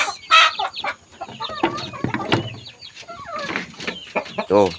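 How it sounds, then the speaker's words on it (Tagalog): An Asil Burmese brood hen clucks alongside the high peeping of her chicks, a close, lively mix of calls scattered through the moment, with no talking. "Ito pala yung inahin ng ating mga sisiw."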